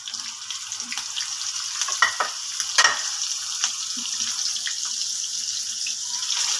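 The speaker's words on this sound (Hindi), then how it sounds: "इसी तरह से हम बाकी जो कबाब हैं वो भी फ्राई कर लेते हैं।" Beef chapli kebabs frying in oil over a low flame, a continuous bright crackling sizzle with brief spatters and scraping clinks partway through.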